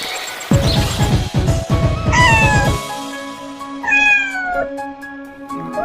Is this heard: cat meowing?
yes